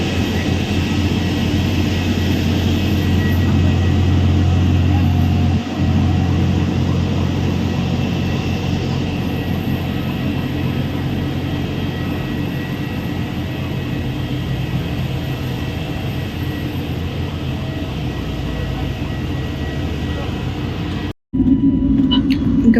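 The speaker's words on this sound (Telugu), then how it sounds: "ఇంకా ఫ్లైట్ కూడా స్టార్ట్ అయిపోయింది" A fixed-wing passenger airplane in flight on an evening trip from Jaipur, Rajasthan, gives a loud, steady engine drone and cabin rumble that runs unbroken, apart from a brief dropout near the end.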